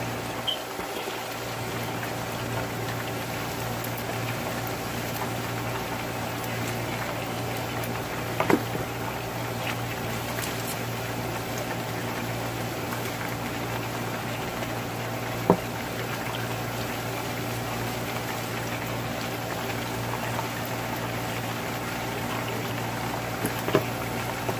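Continuous bubbling sizzle of chicken frying in hot oil, steady and close, with a couple of faint clicks.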